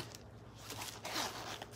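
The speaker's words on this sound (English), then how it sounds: "So you zipped it across the back." A zipper is pulled in short, close rasping strokes, building to one brighter, longer zip just past the middle.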